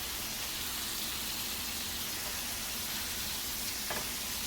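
Chunks of venison sear in a hot pan with a dense, even sizzle that holds steady from start to finish, close and loud with no voices over it.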